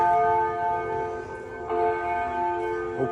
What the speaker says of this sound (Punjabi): ਘੜੀ ਦੇ ਵਿੱਚ ਇੱਕ ਇੱਕ ਘੰਟੇ ਬਾਅਦ ਘੰਟੀਆਂ ਵੱਜਦੀਆਂ